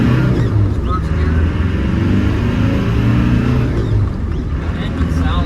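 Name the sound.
1995 Land Rover Defender 90 300Tdi accelerating in first gear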